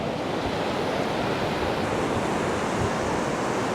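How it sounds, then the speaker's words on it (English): Ocean waves wash onto a South Carolina Low Country beach in a steady, broad roar of surf, with some wind noise on the microphone and no voices. "Just relax, watch the waves."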